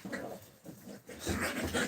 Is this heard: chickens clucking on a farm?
no